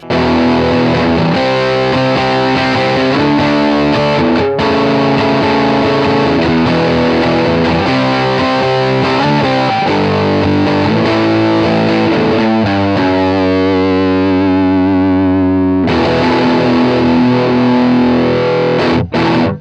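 A Peavey Bandit 65 solid-state amp with the saturation fully cranked drives a high-gain electric guitar through dense, buzzing chugs and chords, loud and unbroken, with a brief pause near the middle and a sustained ringing chord late on.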